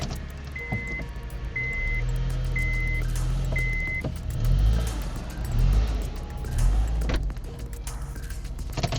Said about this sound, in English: Go ahead, start the car, drive it up on the jack stands.